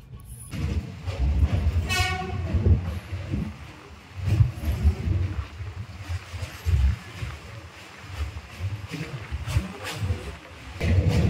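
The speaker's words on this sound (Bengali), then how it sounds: "আমরা এখন নৈহাটি ছেড়ে বেরিয়ে যাচ্ছি, আর নৈহাটি ছাড়ার পরে ট্রেনের অবস্থা কিছুটা এইরকম" A train rumbles along steadily just after leaving Naihati station, with a horn blast early on and low wheel and carriage noise under the sound of people talking.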